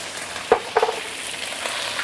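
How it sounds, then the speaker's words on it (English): Pork belly dropped into very hot caramelized sugar syrup in a wok, giving two sharp splattering bursts over a steady background sizzle, close and fairly loud, with no talking. "we're now going to put in the pork belly, and it will splatter because the sugar syrup inside now is super high heat"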